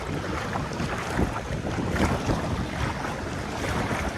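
Strong squall wind blowing over the Dnieper river on a fishing trip, a steady loud roaring rush of gusts buffeting the microphone, with no voices.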